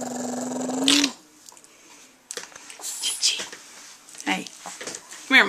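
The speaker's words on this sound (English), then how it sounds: "Look at that little doggy." A small dog playing tug growls and grumbles softly in short bursts, with a person's voice urging it on and talking over parts of the play.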